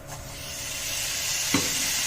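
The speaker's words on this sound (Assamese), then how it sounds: "এতিয়া মই ইয়াত পৰ্কখিনি ঢালি দিম।" Pork pours into a pan of frying rice, setting off a steady close sizzle with a brief louder splash of stirring partway through.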